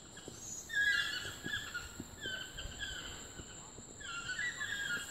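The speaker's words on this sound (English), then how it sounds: "those noises you're hearing are the toucans" Toucans call in a tropical forest with repeated harsh, croaking notes in short bursts, joined by a steady insect buzz and other distant bird calls, with no one speaking.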